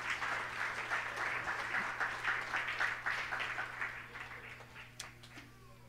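A church congregation applauds and cheers for the Lord at a worship service, steady dense clapping that holds for several seconds before thinning out near the end.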